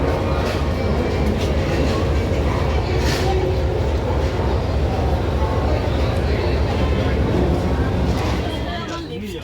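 A Vande Bharat train runs toward Darjeeling, heard from inside the carriage as a loud, steady low rumble and rattle, with murmuring voices underneath before the noise eases slightly at the end.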